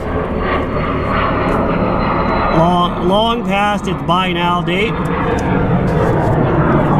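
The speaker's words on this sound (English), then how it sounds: "Another airplane in the sky. You live next to the airport, that's what you get." A fixed-wing airplane passes overhead near an airport, a loud steady engine roar that fills the whole stretch while someone talks over it near its middle.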